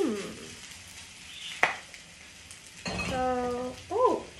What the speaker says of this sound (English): I'm gonna go ahead and place them in the pan. Don't you just love that sound?